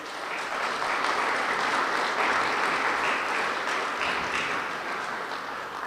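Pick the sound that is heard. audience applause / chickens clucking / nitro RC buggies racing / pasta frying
audience applause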